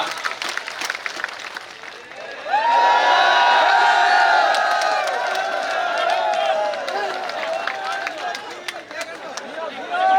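A crowd at a political nomination rally breaks into sustained applause with scattered cheers and whoops, rising suddenly and continuing under a loud voice.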